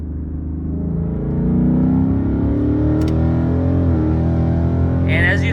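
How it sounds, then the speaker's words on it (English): A Ford Mustang with a 10-speed automatic pulls hard at full throttle in third gear, its engine note rising steadily and loudly as revs climb, with a brief click near the middle and a shift near the end. "So I'm gonna floor it in 3rd gear, but I'm gonna flick the shifter into drive"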